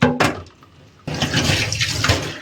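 Water rinsing a scrubbed wash basin: a brief splash, a near-silent pause, then a loud steady gush of running water that continues to the end.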